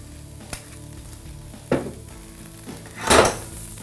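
Green and red peppers frying in olive oil in a pan, a low steady sizzle broken by a few sharp clinks of utensils and a louder rush of sizzle near the end.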